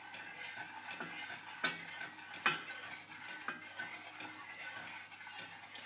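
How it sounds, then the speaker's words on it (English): A rice vinegar mixture being heated in a saucepan and stirred, giving repeated scraping and light clinks of a utensil against the pan over a faint background hiss, close and without talk. "Stir the mixture while it is being heated until the mixture is clear again."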